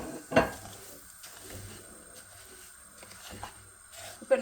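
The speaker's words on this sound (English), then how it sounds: "Okay, so we're going to use the same ghee that we used earlier, and we're going to be adding semolina into it." Semolina goes into a pan of hot ghee and is stirred, giving a few clinks of a spoon against the pan and soft scraping over a low sizzle, close and quiet, with no voice heard.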